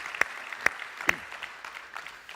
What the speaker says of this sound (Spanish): den un aplauso para el Ministerio de Niños